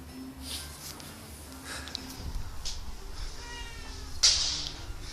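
A cat meows indoors against a steady background of household noise, with a brief bright, high-pitched meow standing out near the end.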